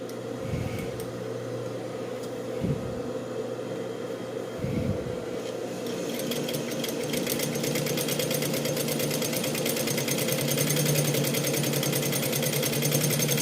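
A sewing machine stitching a fabric phone holder with a transparent window, its motor running in a fast, continuous mechanical chatter that stays steady and close before speeding up and growing slightly louder.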